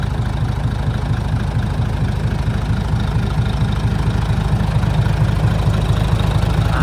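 An Isuzu 6HK1 240 hp diesel truck engine idles steadily and loudly, a continuous low rumble with an even mechanical rhythm and no pauses.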